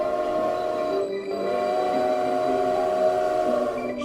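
A train passing as a sound effect, a loud continuous rumble of rail cars with a sustained horn-like tone throughout, steady and close, with no voices.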